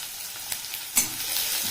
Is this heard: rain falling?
no